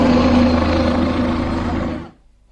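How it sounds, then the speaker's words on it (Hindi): Helicopter at the Mahakumbh 2025 gathering, a steady loud rotor and engine drone close by that holds for about two seconds and then cuts off abruptly. "हेलीकॉप्टर लेना रे"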